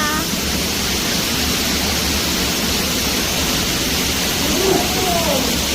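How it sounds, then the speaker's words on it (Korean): Steady rushing water at a botanical garden on Geoje Island, a constant broadband wash filling the whole stretch, loud and close, with faint voices briefly underneath. "물소리가 들리는 이곳은"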